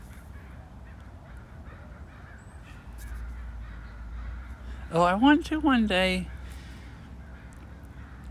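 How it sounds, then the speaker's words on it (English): Blackbirds in a Japanese garden let out a brief cluster of harsh, throaty calls midway through, clear over steady outdoor background noise, while a person talks nearby. "There's like tons of blackbirds here and stuff."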